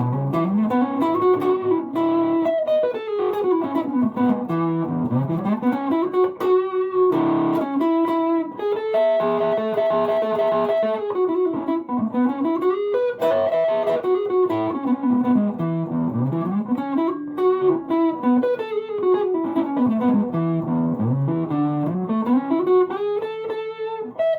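A distorted electric guitar through a Joyo Vintage Overdrive pedal, drive set at 12 o'clock, plays a continuous riff with gritty overdrive, sustained chords and bending notes, loud and steady throughout with no voices.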